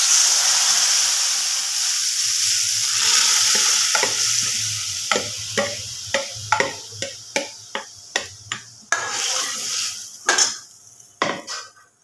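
Chana dal frying in a pan with a dried red chilli and panch phoron, a steady sizzle with a run of sharp, rhythmic scraping stirs growing more frequent toward the end.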